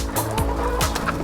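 Farm chickens being fed treats cluck close by in a brief, busy burst of short calls over a low background rumble.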